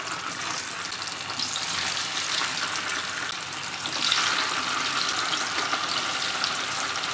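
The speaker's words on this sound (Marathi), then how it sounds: "यामध्ये आता आपण बटाट्याच्या फोडी या अशा एक एक टाकून हे तळून घेणार आहोत" Potato pieces fry in hot oil over full heat, a steady, close, hissing sizzle that holds for several seconds and grows slightly more intense midway, with no voices.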